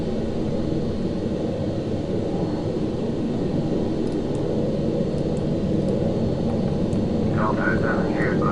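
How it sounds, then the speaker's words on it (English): Jet airliners taxi near a parked plane at San Diego airport in Flight Simulator X, a steady, loud engine rumble and whine droning without pause. "It's quite noisy because obviously there's more planes coming around at the moment."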